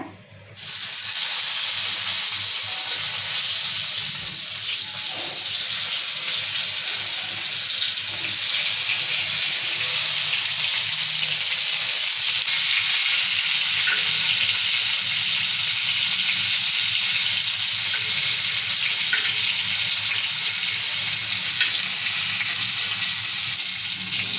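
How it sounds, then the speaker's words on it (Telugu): Eggplants fry in oil in a pan on a stove, a loud, continuous, even sizzle and hiss throughout with no voices. "ఇక్కడ వంకాయలు ఇలా వేయించుకుందాం పెంక మీద"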